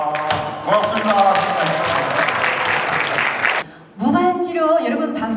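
An audience at a book concert applauds with dense, loud clapping from a nearby crowd, briefly dropping away before resuming, while a voice is heard over it.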